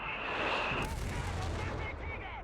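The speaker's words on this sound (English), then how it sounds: "this seems like a bit of a raw deal for the heavy mortar because its barrage seems to be shorter in terms of the number of shells" A heavy mortar barrage in Company of Heroes 3 lands as a string of loud, close shell impacts with rumbling booms and a whistling tone, over faint background sound.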